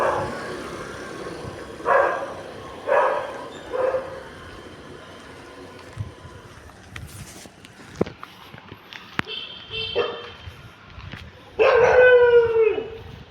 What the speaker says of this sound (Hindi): इन कुत्तों के पास से बहुत चुपचाप निकलना पड़ेगा।